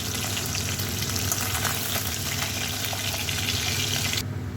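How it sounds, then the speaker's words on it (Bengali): Fish frying in hot oil in a pan gives a steady, loud sizzle and crackle that runs unbroken through the whole stretch and drops off sharply just before the end, with no talking. "দেখুন আমি মাছগুলো ভেজে তুলে নেব"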